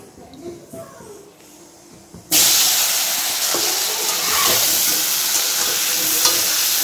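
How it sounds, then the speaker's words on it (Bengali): Vegetable stalks hit a hot pan with oil and start frying: after a quiet start with faint voices, a sudden loud hiss erupts and settles into a continuous, close sizzle. "তো এখানে এখন আমি ডাঁটাগুলোকে ভেজে নেব।"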